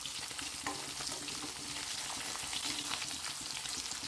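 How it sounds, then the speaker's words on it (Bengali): Fish frying in oil in a kadai for a Bengali mustard fish dish, a steady, close, dense sizzle and crackle that runs unbroken throughout with no talking. "মাছটাকে ভালো করে ভেজে নিতে হবে এই যে অল্প অল্প ভাজা হয়ে গেছে"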